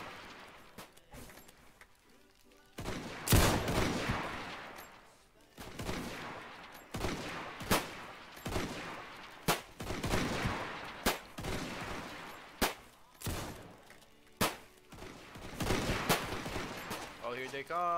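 Repeated bursts of gunfire in the Roblox Zulu wars game, sharp cracks and volleys coming every second or two over a noisy battlefield background, with voices talking over them.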